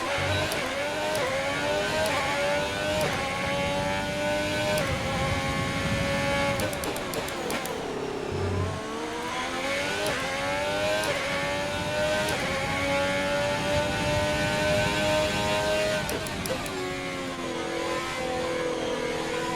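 An F1 2020 race car engine wailing at high revs, its pitch sweeping up and down through gear changes and braking, loud and continuous across the whole stretch with no talking.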